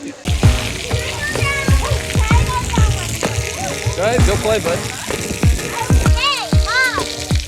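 Water splashing and sloshing at a splash pad in a cruise-line water park at CocoCay, Bahamas, with children playing and an adult talking over the continuous spray.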